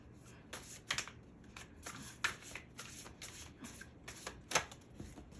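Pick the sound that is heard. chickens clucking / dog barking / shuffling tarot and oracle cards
shuffling tarot and oracle cards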